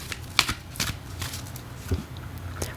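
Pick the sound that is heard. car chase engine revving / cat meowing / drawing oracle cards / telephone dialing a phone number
drawing oracle cards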